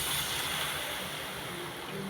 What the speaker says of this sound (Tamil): இப்போ நான் வந்து இதில் தண்ணி சேர்க்குறேன்